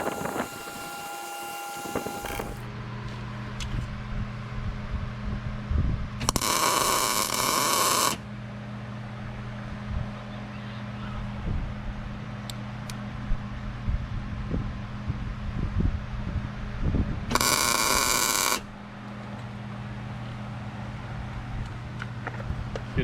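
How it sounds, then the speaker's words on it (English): A tack weld goes onto a bolt in a quiet shop, with two short bursts of crackling buzzing arc several seconds apart over a low steady hum. "we're gonna run a little tack weld right there"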